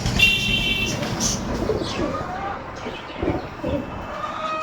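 Low cooing from a Kaldum pigeon in a bird shop, moderately close amid busy background noise and occasional faint chirps.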